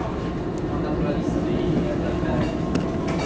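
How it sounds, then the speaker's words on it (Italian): A steady low rumble fills a moving Italo high-speed train carriage arriving at Napoli Centrale, with a voice talking over the continuous hum. "Questo è il treno bellissimo"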